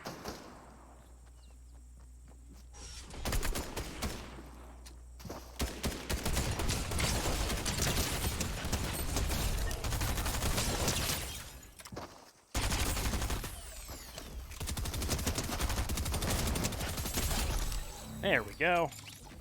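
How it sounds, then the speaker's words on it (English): Rapid bursts of gunfire from a battle-royale shooter game, a dense sustained fusillade that swells loud and continuous, briefly cuts out, then resumes, with a player talking over parts of it. "the gunfire's getting louder"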